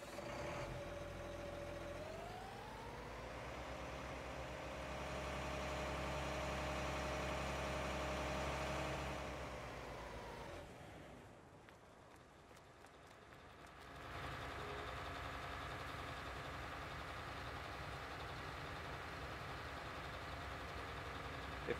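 A tractor engine idles in a farming video game, giving a steady low hum. The hum swells slightly, drops away for a few seconds and then resumes at an even level.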